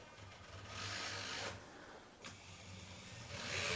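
A small Faller Car System model truck starts to drive, its tiny electric motor giving a faint, thin whir with soft mechanical clicks and brief bursts of noise.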